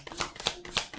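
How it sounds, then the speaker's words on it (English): Tarot deck being shuffled by hand, a quick run of close papery riffles and flicks in about a second. "I shuffle my decks"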